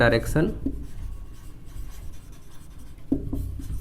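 Pen writing numbers on paper while a maths problem on direction cosines is worked out, a steady scratchy rub lasting through most of the stretch, close and fairly loud, with a voice speaking briefly at the start and again near the end.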